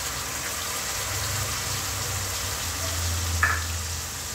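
Onion paste fries in a pan with a steady, moderate sizzle while being stirred, a brief clink of the spoon near the end, as it cooks for a spicy dhaba-style sprouted chana masala.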